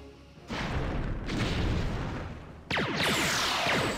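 Rear torpedoes launch in the Star Trek Bridge Commander space game, two heavy booming bursts, the first rumbling on for a couple of seconds and the second a sharp crackling blast, loud with no voices.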